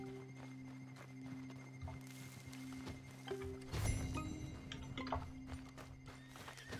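Horse hooves in Red Dead Redemption 2, with clip-clopping steps and a whinny over steady ambient game music, moderately close, with a louder flurry of hoofbeats midway.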